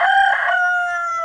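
A rooster in a free-range backyard poultry yard crows once, loud and close, its long harmonic call held steady before trailing off, with no other sounds.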